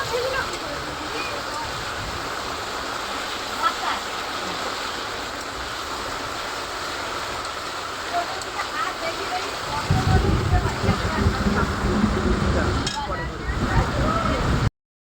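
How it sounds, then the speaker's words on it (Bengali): Water poured into a pot of chicken biryani meat while it cooks, a steady sloshing, running wash that grows louder and fuller partway through, with a background voice talking. "আমি ওই জন্য অল্প পরিমাণ জল দিয়ে দিচ্ছি"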